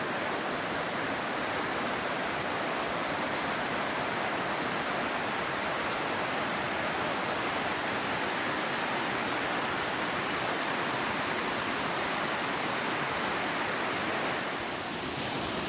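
The Fol stream near Canikdere waterfall in Tonya, Trabzon rushes past in a continuous, broad hiss of flowing water, steady and loud with no voices.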